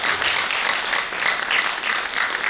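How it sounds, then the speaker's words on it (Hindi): An audience at a Hindi poetry gathering in New Delhi claims loudly in sustained applause, dense and even throughout, with no talk over it. "एक बार जोरदार तालियां बजा दें"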